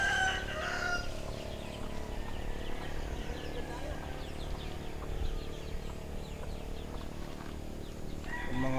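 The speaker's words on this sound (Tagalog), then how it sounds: "Yung mga alaga ni Tox, chicken and turkey." Chickens and turkeys on a farm, with a rooster crowing and faint clucking heard at a distance, mixed with distant farmyard noise and people talking in the background.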